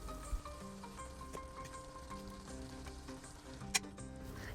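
Tomato sauce sautéing in a pan for Afghan eggplant borani, a faint steady sizzle with a few light stirring clicks, no talking.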